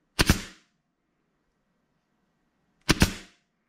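A pneumatic nail gun firing thin pins into a workpiece, two sharp loud cracks about two and a half seconds apart, each with a brief hissing tail, quiet between them.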